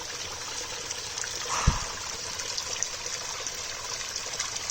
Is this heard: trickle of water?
yes